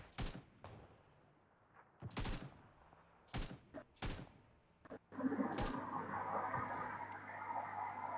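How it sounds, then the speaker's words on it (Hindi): Sharp gunshots in PUBG PC Lite during long-range firing, several loud cracks spaced a second or so apart, then a steadier rumbling burst of sustained fire and engine-like noise toward the end. "काफ़ी ज़्यादा लॉन्ग रेंज फायर कर रहा था एक गेम के साथ"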